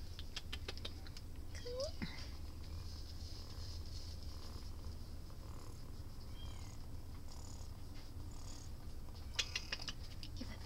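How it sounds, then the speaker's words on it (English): A cat purrs in a steady, low rumble close up, continuous throughout, with a few faint clicks and soft sounds over it. "You have a very loud purr, yes you do."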